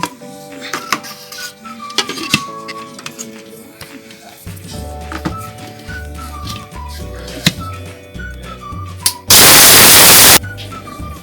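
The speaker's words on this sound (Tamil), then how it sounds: "மஞ்சளை போட்டு நைஸாக நம்ம அரைச்சி எடுத்துக்குவோம்." Kitchen clinks and clatter, then a mixer grinder grinding turmeric roars loudly in a short burst of about a second before stopping.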